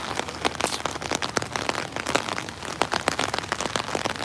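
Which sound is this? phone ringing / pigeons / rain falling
rain falling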